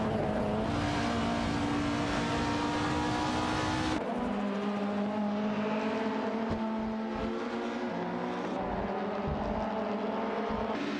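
Ford Mondeo 98 race cars in a racing video game roar continuously with high, whining engine tones that rise and fall as they rev. A sharp shift in pitch midway suggests a gear change or a switch to another car.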